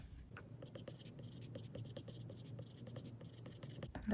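A stylus scratches and taps across a tablet screen while writing in a digital weekly planner, a steady run of soft, close strokes with light taps, no one speaking.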